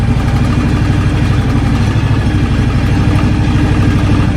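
A John Deere X724 lawn tractor fitted with a 54-inch snow blower runs close by, its engine not yet warmed up, giving a steady, even, rumbling drone with a faint clattering texture throughout.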